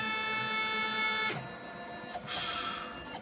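A cylindrical engraving machine cuts with a single-flute conical end mill, giving a steady high, tonal whine with many even overtones and a brief change in pitch partway through, close and continuous with no talking.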